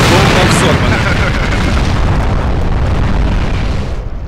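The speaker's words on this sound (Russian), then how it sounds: "Бомба взорвана." A bomb detonates in the shooter game Point Blank, a loud broadband roar that stays sustained for several seconds before tapering slightly at the end.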